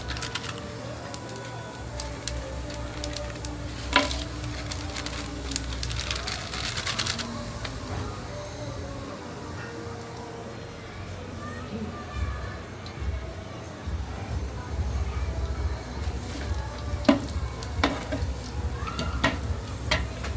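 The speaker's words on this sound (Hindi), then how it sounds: "तो तेल तो गर्म हो चुका है, अब मैं इसमें एक एक पैकेट करके डाल देती हूँ।" Whole spices sizzle steadily in hot oil on a gas stove while rajma and rice are cooked in a family kitchen, a constant crackling hiss with scattered clinks and a low background hum.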